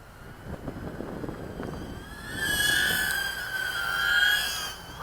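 A Cheerson CX-10WD mini drone flies nearby with a thin, high-pitched motor whine that swells and shifts in pitch as it hovers and maneuvers.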